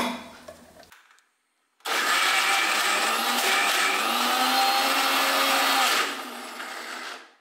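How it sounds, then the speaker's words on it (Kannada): A kitchen mixer grinder blends leftover cooked rice with water, a steady loud whirring roar that starts after a short quiet gap and runs for about four seconds before easing, with no talk. "ಮಿಕ್ಸಿಯಲ್ಲಿ ಕಡಿಯುವುದಾದರೆ ಮೊದಲಿಗೆ ಈ ರೀತಿಯಾಗಿ ಗಂಜಿ ತೇಳಿ"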